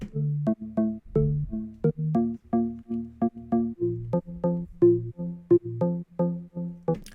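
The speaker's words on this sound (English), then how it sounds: "The sub is the same, but the new bass line sounds like this." A plucky UK garage synth bass line plays short, punchy notes in a bouncing, syncopated rhythm, each note decaying quickly, alone and fairly quiet.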